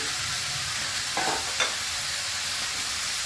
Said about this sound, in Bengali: তরকারিতে একটু কষিয়ে নিচ্ছি